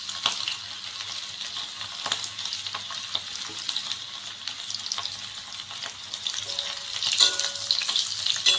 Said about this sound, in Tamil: ப்ரானை ஃப்ரை பண்ணிக்கலாம்